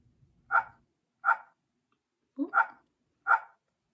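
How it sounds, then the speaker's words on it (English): A dog barking four times, close and distinct, in single sharp barks spaced under a second apart against a silent background, with a brief doubled bark in the middle. "That was a dog barking."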